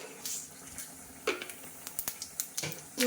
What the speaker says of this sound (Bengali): ওখানে দিয়ে দিচ্ছি জিরে ফোড়ন